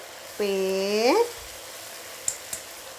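Tempe frying in a pan, heard as a steady, low sizzle. A brief rising and sliding vocal tone sits over it near the start, then two small clicks follow.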